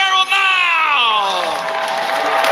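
A large crowd at a BMX finals event cheers and shouts loudly, a sustained roar with high whoops and children's voices, close and continuous.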